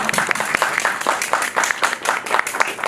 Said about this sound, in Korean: 두 분께 박수 한 번만 부탁드릴게요.